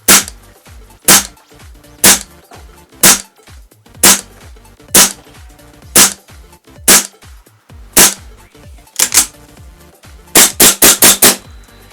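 A KJworks KC-02 gas blowback airsoft rifle fires about a dozen sharp, loud cracks, first as spaced single shots and then as quicker doubles and a closing rapid burst, with no one talking.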